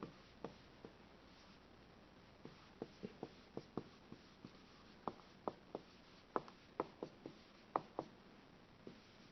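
Chalk or marker tapping and scratching on a board in short, irregular strokes, faint and close in a quiet room.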